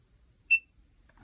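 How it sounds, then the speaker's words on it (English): A single short, high-pitched electronic beep from a Shinho X950 sounds cleanly in a quiet room, followed by faint shuffling. "And close it and wait for the beep."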